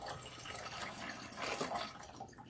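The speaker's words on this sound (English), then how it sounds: "now we are going to rinse" Running water rinses shampoo out of natural hair, a soft, steady splashing and trickling close by that swells briefly midway.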